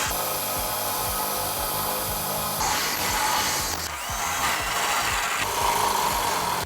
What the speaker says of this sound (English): using a 5/8 drill bit, we're going to drill all 4 of our holes